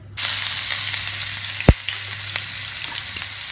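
Chopped onion sizzles steadily in hot oil with cumin in a pan, a close, even frying hiss with a single sharp knock of stirring partway through and no voices.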